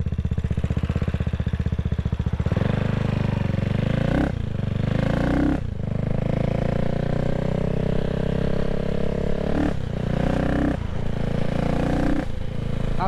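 A CCM Spitfire Six motorcycle engine drones loudly and steadily while being ridden, its pitch rising through repeated revs with brief dips at gear changes, close-up and with no voices.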